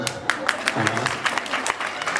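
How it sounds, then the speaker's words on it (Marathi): A crowd at a live game-show event claps in scattered, uneven bursts, with separate sharp hand claps standing out and a voice speaking over the applause. "यांनी छान केलं का या खांद्याचा टाळी वाजवा"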